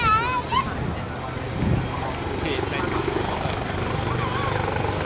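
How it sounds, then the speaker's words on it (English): A Westland Lynx AH-7 helicopter finishing its display at the RAF Cosford Airshow 2022, a steady rotor and engine roar at moderate distance under a commentator's voice and crowd chatter. "And so, completing its sequence, the Westland Lynx AH-7."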